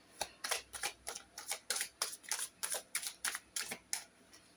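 Tarot cards are shuffled and drawn by hand in a quiet room, a series of about a dozen soft, crisp riffling and slapping bursts in an even rhythm, close and faint.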